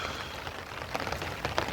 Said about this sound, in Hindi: सुबह से बारिश है